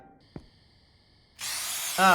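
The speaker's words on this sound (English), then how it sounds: "just spraying them away. Got some rats out back, just hose them down." A hose spraying rats in a horror video game set behind a convenience store: a sudden steady broadband hiss of water spray bursts in, loud and continuous, after a brief thump, with a voice cutting in at the end.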